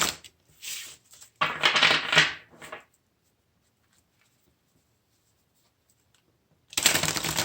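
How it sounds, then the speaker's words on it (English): Two bursts of papery riffling and shuffling of a deck of cards, the first longer, separated by several seconds of near silence, close up. "I'm just going to get this one shuffled since this was the clarifying deck"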